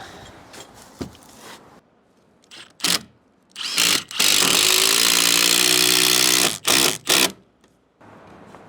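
T30 turbo screws being driven into a window frame during a Schüco triple-pane tilt-and-turn window install, with short whirring bursts from a driver building to a long loud run, then two brief pulses.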